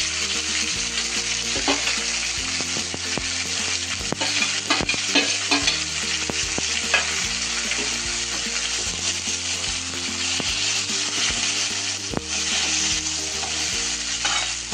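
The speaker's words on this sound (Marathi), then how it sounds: "छान असं सगळं तेलामध्ये हलवून घेते सगळा मसाला." Stuffed eggplant and leftover masala sizzle loudly in hot oil while being stirred, a steady frying crackle broken by repeated scraping and clacking of a utensil against the pan.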